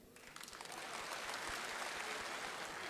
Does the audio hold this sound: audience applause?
yes